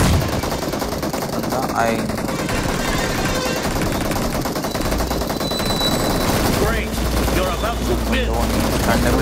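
Dense, loud automatic gunfire in the mobile battle royale game BGMI, with rapid sustained bursts running throughout. Someone speaks briefly over the shooting.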